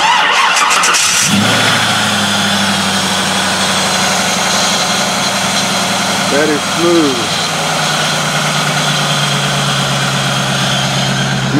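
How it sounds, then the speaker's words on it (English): A classic custom car's engine cranks over and catches, then settles into a steady, loud, low idle close by, with people talking briefly over the running engine. "Let's hear this run."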